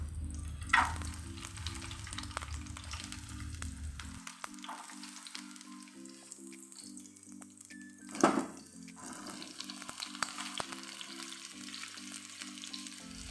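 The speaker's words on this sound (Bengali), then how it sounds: "তেলটা গরম হলে কেটে রাখা রসুনটা আদা আর টমেটোটা আমি একে একে দিয়ে দেবো" Garlic, ginger and tomato sizzle and fry steadily in hot white oil in a pan for a homemade momo chutney, a constant crackling hiss with a brief stirring clatter.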